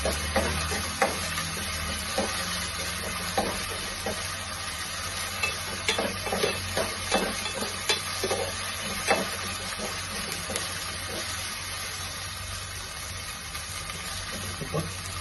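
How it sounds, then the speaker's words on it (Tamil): Steady sizzling of vegetables frying in oil with garlic paste for veg pulao, with frequent spatula scrapes and taps against the pan throughout, close and continuous. "இது போட்டுட்டு ஒரு 2-3 மினிட்ஸ் நல்லா ஃப்ரை பண்ணிவிட்டு அப்புறமா தக்காளி போட்டுக்கலாம்."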